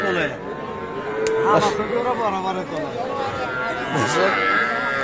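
Cattle moo repeatedly at a busy rural livestock market in Dinajpur, loud and close, with a crowd murmuring and people talking underneath.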